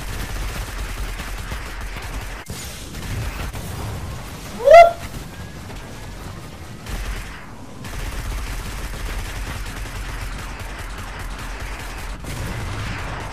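Gunfire from the video game Destiny crackles in rapid, steady bursts, moderately loud amid game effects and a brief rising whistle.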